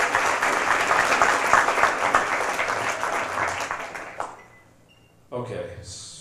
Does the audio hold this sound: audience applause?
yes